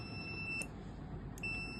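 Two short electronic beeps from a multimeter in continuity buzzer mode, high and thin, separated by about a second over a low background hum.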